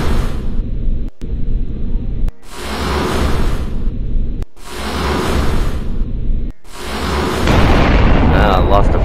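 Enemy ships firing in a space strategy game, producing loud sustained roaring bursts of weapon fire in several long blasts separated by brief gaps, dense and booming throughout.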